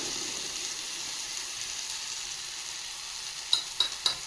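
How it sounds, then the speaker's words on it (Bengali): Spice paste sautéing in a pan for doi katla fish curry, a steady soft sizzle and hiss throughout, with three quick metallic taps near the end. "আগে মশলাটা কষিয়ে নিই।"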